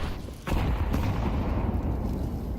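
Grenades go off during a Counter-Strike match: a sudden loud burst, then a sustained rumbling roar of blasts that fills the rest of the short moment.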